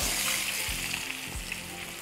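Potatoes hitting hot oil seasoned with dried red chillies and a pinch of asafoetida, giving a steady, close frying hiss with no voices over it.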